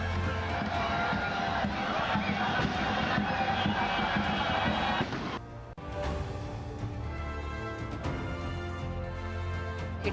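A large crowd cheers and shouts in celebration of India's World Cup win. The roar is loud and continuous, briefly cut off partway through, then the cheering resumes.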